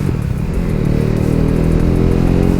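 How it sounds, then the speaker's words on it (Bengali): A motorcycle engine revs and picks up speed on the road, a loud, steady, low droning hum that rises slightly and holds throughout, with no talking. "আমি আবার স্পিড তুলে দেখাই"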